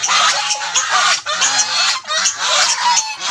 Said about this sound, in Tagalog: Try natin ipakain sa ating mga alagang gansa.